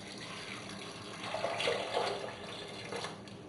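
Water runs and splashes steadily into a pot for a few seconds, a close, continuous pouring sound, added to onions and carrots for soup.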